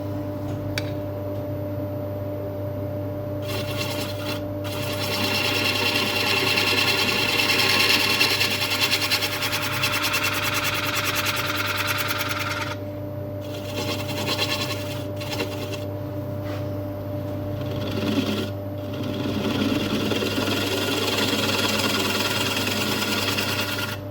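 A wood lathe turns an English oak square-footed bowl while a spindle gouge cuts, a steady motor hum beneath bursts of hissing, scraping cuts that come and go across the clip.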